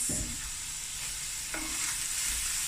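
Mince curry fries steadily in a pan, a continuous close hiss with a couple of brief stirring scrapes, no voices.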